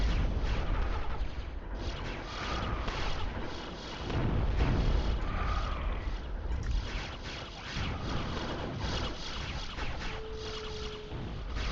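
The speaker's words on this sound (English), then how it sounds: "here's the bombs" Bombs exploding in the real-time strategy game Zero-K: a rumbling wash of heavy, muffled blasts rolling over one another across several seconds, swelling and fading amid steady battle noise, with no talking.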